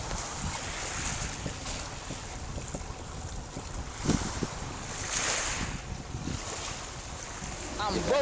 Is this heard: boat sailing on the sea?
yes